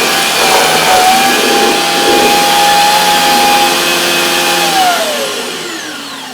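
A Dyson Cinetic Big Ball Animal vacuum with a carbon fibre turbine head picks up rolled oats, its steady loud motor whine holding close and constant, then its pitch sweeping downward as it eases off near the end.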